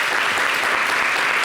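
Short, loud burst of dense audience applause from a studio crowd during a television talk show, steady and continuous with no talk over it.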